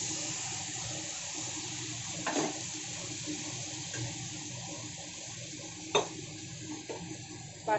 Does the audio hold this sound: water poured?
yes